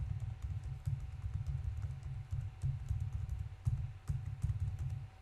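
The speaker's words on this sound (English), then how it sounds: "we're going to type in these numbers." Numbers typed on a computer keyboard, a steady run of close, crisp key taps in an uneven rhythm over a faint background hum, with no talking.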